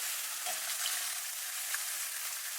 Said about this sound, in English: hopefully you guys can hear me with my beef sizzling very loudly in the background here